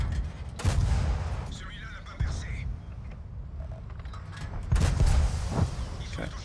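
Tank cannon fire in the World of Tanks video game, featuring an AMD 178B wheeled vehicle, with heavy booms and low rumble amid engine noise, a few loud shots standing out under a voice talking.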